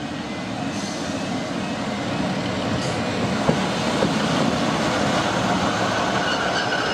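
A passenger train runs along the Marston Vale line between Bletchley and Bedford, a steady low rumble with rolling wheel and engine noise heard from inside or close by, constant and fairly loud with a couple of faint clicks.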